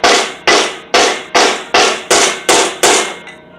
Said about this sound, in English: I'm using the back side of a hammer,